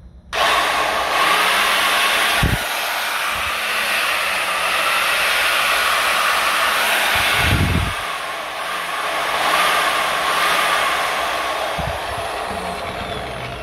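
Makita MCC400 marble saw running after bearing replacement, a loud steady high-pitched motor whine that holds for over ten seconds, with a couple of brief knocks and a slight dip and rise in level, no talking.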